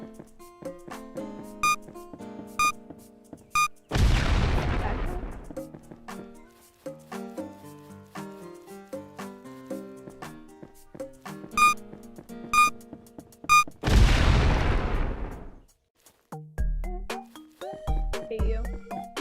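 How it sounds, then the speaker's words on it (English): Bombs explode in a video game: two loud booming blasts with long fading tails, about ten seconds apart, set against light tinkling game music and chimes. "I hate these bombs though."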